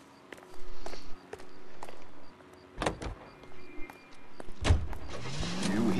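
Car in the 1940s Los Angeles setting of L.A. Noire gives a door slam and a short engine start with a rising rev. Footsteps, clicks and soft handling noises come before it.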